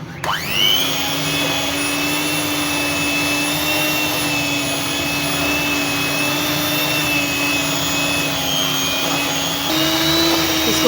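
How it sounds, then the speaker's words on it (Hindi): An electric hand mixer whirs steadily as it beats shortening for biscuits, a loud, close, continuous motor whine that holds a constant pitch and shifts slightly near the end. "इसको अच्छी तरह बीट करना है ताकि इसका स्मूथ सा टेक्सचर हो जाए।"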